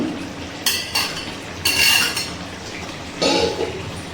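Fried paneer pieces tipped into a pan of cooked mixed vegetables for a restaurant-style mix veg, giving a few bright clinks and scrapes of a spoon against the pan in short separate bursts, close and moderately loud.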